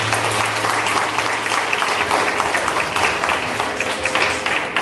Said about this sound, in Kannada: ಎಲ್ಲರೂ ಕಂಪಲ್ಸರಿ ಚಪ್ಪಾಳೆ ಹಾಕಬೇಕಾಗಿದ್ದು ನಿನ್ನ ಪ್ರೊನೌನ್ಸಿಯೇಷನ್.